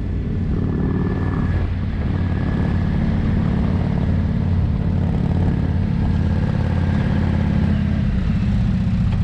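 A steady, loud Indian motorcycle engine drones continuously at close range, a low rumbling hum with no talking over it.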